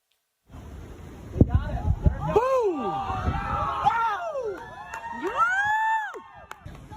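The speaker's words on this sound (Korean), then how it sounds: "미국 전투기의 중국 정찰 풍선 격추 장면은 말씀하신 대로 미국 동부 해안 주민들이 직접 맨눈으로 지켜보며 환호성을 터뜨리기도 했는데" Residents on the US east coast cheer and shout outdoors as an American fighter jet shoots down a Chinese spy balloon, a loud crowd of rising whoops and excited yells that builds and carries on for several seconds.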